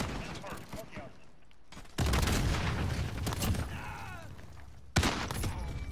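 Shotgun fire in the Modern Warfare video game, sharp blasts at about two and five seconds amid ongoing in-game gunfire and noise, with players talking over the action.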